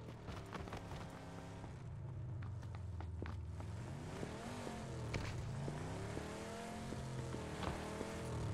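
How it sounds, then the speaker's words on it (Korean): Vehicle engine in the PUBG Battlegrounds video game, a droning motor whose pitch rises and wavers as the car draws nearer, steady and fairly loud throughout with no talk over it. "차소리야, 차소리."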